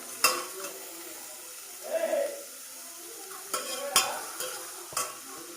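Onions cooking in a pan for a Varamahalakshmi festival meal, stirred with a few sharp scrapes and clinks of utensil against metal over a faint sizzle, with no talking.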